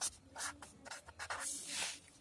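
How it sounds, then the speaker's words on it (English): A red pen moving across paper in quick rubbing, scratching strokes, close and fairly quiet, with short pauses between bursts of drawing. "I am drawing it with red color"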